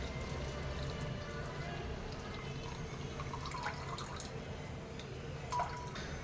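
Ground mint blended with a glass of water is poured through a strainer, giving a faint, steady trickle of liquid with scattered small drips against a soft background hiss.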